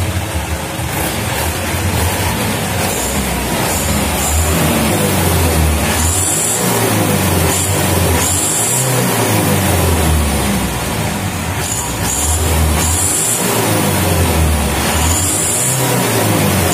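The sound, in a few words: Mitsubishi Canter 2011 Super Speed truck engine revving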